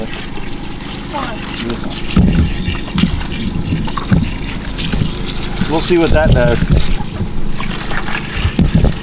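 Water sloshes and splashes as it is stirred by hand outdoors in Oklahoma heat, with choppy bursts under nearby wind noise while people talk over it.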